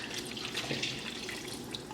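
Water poured into an Instant Pot along with canned French onion soup and steak sauce, a steady close splashing and trickling stream lasting a couple of seconds.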